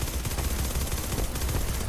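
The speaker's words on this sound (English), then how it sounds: "I was just shooting into the wall, apparently." Rapid gunfire in the sci-fi shooter Starhawk, a dense, continuous crackle of shots that keeps up loudly for the whole stretch with no pauses.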